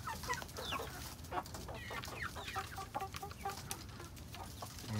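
Chickens, including Jersey Giant mixes, cluck and chatter softly in a farm flock over steady background noise, with overlapping calls and no talking.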